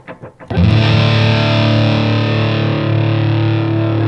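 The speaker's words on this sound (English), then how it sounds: "we've got the wave cannon there, which has a nice wide range of distorted tones" Electric guitar played through a Caroline Wave Cannon distortion pedal: a few quiet plucked notes, then a loud sustained distorted chord ringing out thick and saturated, slowly decaying over several seconds.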